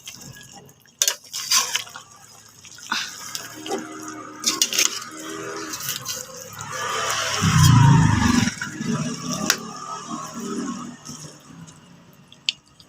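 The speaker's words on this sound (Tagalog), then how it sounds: "lalagyan natin ng first na piga ng nyog" Coconut milk from the first pressing is poured into a pot of cooking laing with santol. It comes in soft liquid splashes and drips, with a louder gurgling pour midway, among light clatter of a utensil.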